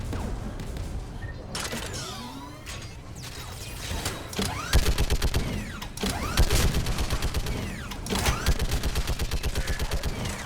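Turret gunfire in Mass Effect 3: rapid, loud mechanical bursts of repeating shots in rhythmic volleys, with whirring and creaking machinery between them and swooping sci-fi effects.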